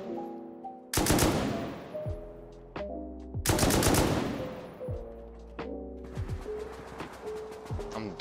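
Bursts of automatic gunfire from the console game Rust, several loud rapid volleys with brief pauses between them, set against game music or ambience and no talk.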